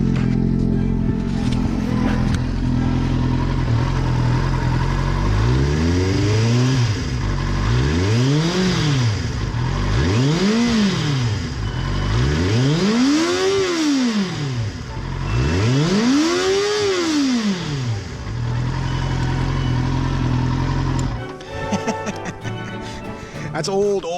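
A Gpro 5 engine running on eight-month-old gas revs up and down in repeated rising and falling swells, loud and close, with a throaty drone between the revs.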